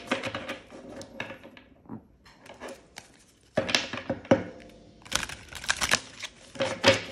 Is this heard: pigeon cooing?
no